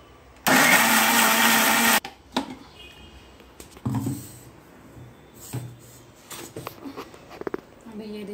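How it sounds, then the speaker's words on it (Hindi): Kitchen mixer grinder blending a tomato, garlic and ginger mixture: one loud, steady whirring burst of about a second and a half, then cut off, followed by quieter clatter and handling sounds. "अभी हम इसको मिक्सी में ग्राइंड कर लेंगे।"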